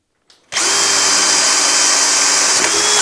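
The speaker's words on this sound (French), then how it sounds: "Et là, on va faire 2 avant-trous. Ça va, ça se perce quand même assez facilement." Power drill boring pilot holes for a reinforced kickstand on a Dualtron electric scooter, starting abruptly after a brief quiet moment and then running loud, close and steady with a high whine.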